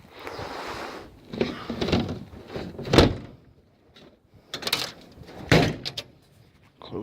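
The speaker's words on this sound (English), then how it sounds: "Gotta make sure I lock this door though." A house door being shut and locked during a scrapping outing, heard as several thuds and clicks spaced over a few seconds with quiet gaps between them, fairly close.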